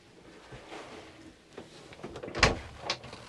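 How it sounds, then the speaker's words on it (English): A sliding door to the heads aboard a Sealine 365 Sportbridge boat rolls open, giving a soft rumbling slide with a sharper knock near the end and a lighter bump just after, close by and quiet. "if you open the door to the heads,"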